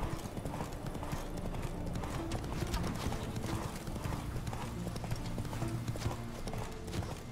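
Rapid rhythmic hoofbeats of a galloping horse in the video game The Witcher 3, steady clip-clop close and prominent over a low background bed, with no voices.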